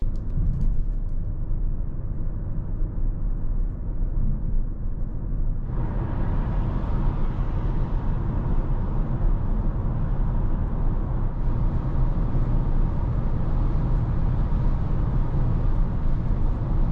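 Steady low road rumble fills the cabin of a 2019 VW Arteon 2.0 TDI diesel with DSG gearbox, running on winter tyres without acoustic glass, growing louder and brighter as speed builds.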